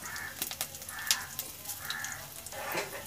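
Ginger garlic paste and cumin fry in hot oil for dal, giving a steady close hiss and crackle with scattered pops throughout.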